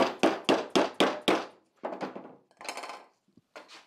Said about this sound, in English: the other side might need a tappy tap